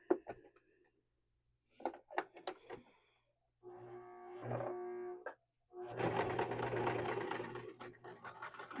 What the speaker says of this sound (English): we're going to go ahead and sew right across there